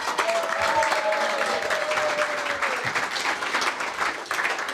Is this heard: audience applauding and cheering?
yes